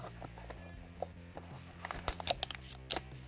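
Package for an ATM6 build being cut open, with soft crinkling and tearing of packaging that grows louder and busier near the end in a few sharp rustling bursts over a low background hum.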